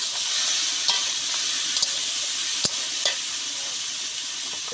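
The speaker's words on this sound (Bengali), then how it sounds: "ওই তেলেই পেঁয়াজ কুচি দিলাম। এবার পেঁপেটা আমি রান্না করব, তাই জন্য পেঁয়াজের ভিতরেই মাছের ডিমগুলো ছেড়ে দিলাম, ভাজা হয়ে যাবে এর সাথে।" Fish roe frying with chopped onion in hot oil in a pan, a steady loud sizzle with occasional sharp crackles and pops, no talking.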